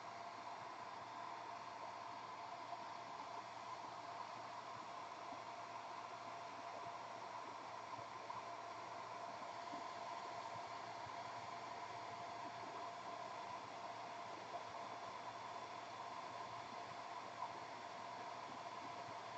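A dryer blows a steady, even whoosh over freshly painted miniature base, running continuously at low level with no change in pitch.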